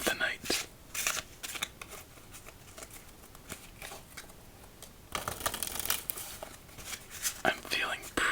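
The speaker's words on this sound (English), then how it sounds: "Shuffle up our cards and get ready for our first game of the night." A deck of playing cards being shuffled by hand at close range for a solitaire game, with soft riffling bursts and flicks, the busiest run near the end, plus faint breathy whispering.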